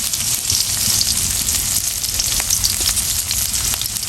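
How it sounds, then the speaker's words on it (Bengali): Onions and green chilies fry lightly in a pan, giving a loud, dense, crackling sizzle that runs steadily from start to finish with no talking. "দেবো পেঁয়াজ, দেবো কাঁচামরিচ, সুন্দর করে একটু ভেজে নেবো হালকা একটু"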